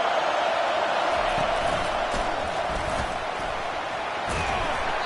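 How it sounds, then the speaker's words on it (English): Stadium crowd at an Alabama vs Penn State college football game, a loud continuous roar of massed voices with occasional sharper shouts rising out of it. "listen to this crowd noise. This stadium is vibrating."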